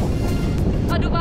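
Wind buffets a microphone during a paragliding flight, a continuous low roaring rumble that stays loud through the brief moment.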